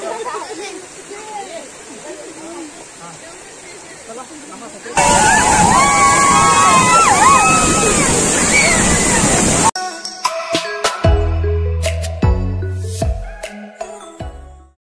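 Rushing water of the Mohili waterfall near Karjat, a steady loud roar of falling water that jumps louder midway, then gives way to other tonal sounds near the end.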